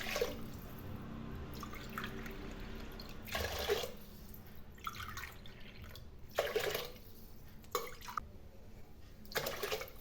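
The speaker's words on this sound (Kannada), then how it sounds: "ಇದಕ್ಕೆ 6 ಲೋಟ ನೀರನ್ನು ಸೇರಿಸ್ಕೊತಾ ಇದ್ದೀನಿ." Water poured glass by glass into rice and lentils in a pressure cooker for bisi bele bath, several separate splashing bursts close by over faint background hum.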